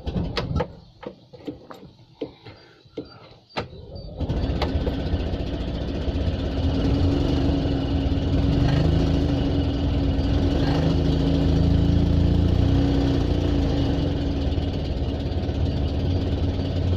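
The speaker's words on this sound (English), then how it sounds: "Just try and start her up before we close the door." An Invacar engine, choked and primed, cranks over with several sharp clicks and bursts, then catches and settles into a loud, steady idle that runs close and continuous to the end.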